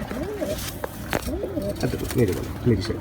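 Golden pigeons coo in repeated soft, rolling calls close by, with a few bursts of background noise between them.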